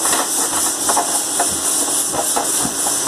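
A mixer grinder grinds roasted lentils and coriander into powder for Navaratri sundal, giving a loud, steady whirring roar with a hissing edge that runs unbroken throughout.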